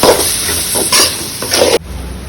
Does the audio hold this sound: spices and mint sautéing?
yes